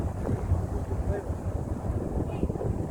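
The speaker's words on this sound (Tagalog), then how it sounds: "Pasensya na kung mahangin." Heavy wind buffeting the microphone on the Hong Kong harbour promenade, a continuous low rumbling roar with gusty swells throughout the short stretch.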